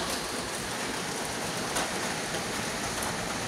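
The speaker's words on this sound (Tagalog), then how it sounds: "Malakas ang hangin. Kasamang ambon." Steady drizzle pattering with a constant broadband hiss of strong wind from an approaching typhoon, dense and unbroken for the whole stretch, no voices.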